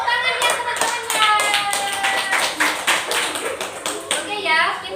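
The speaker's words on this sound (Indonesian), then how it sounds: "Beri tepuk tangannya teman-temannya." Schoolchildren in a classroom clapping for a student group, a loose, uneven run of claps with children's voices talking over them.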